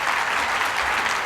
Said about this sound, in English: I would like you to ask a round of applause for the panelists